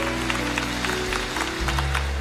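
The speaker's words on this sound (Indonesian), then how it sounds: "Berikan tepuk tangan untuk Nelga." Steady clapping from a church congregation during a worship service fills the moment, a dense patter of many hands over a low droning hum, fairly loud and continuous.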